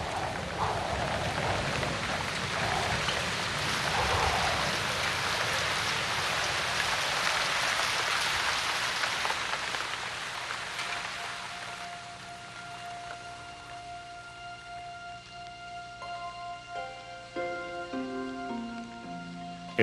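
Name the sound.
heavy rainstorm in jungle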